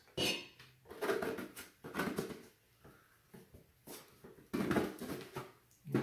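A butter knife scrapes out the dried inside of a birdhouse gourd in bursts of harsh, gritty scraping, close and moderately loud, separated by short pauses.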